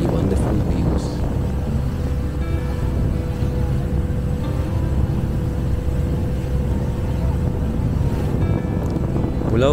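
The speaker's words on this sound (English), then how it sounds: "the boat picks up speed and we were just enjoying the strong wind, the peaceful sound of water" Steady roar of a boat engine moving at speed off Klang, Selangor, Malaysia, with wind buffeting the microphone and water rushing alongside throughout.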